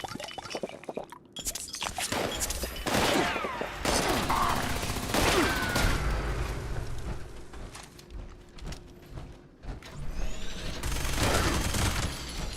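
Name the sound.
Ultra Sight Gatling laser firing in a video game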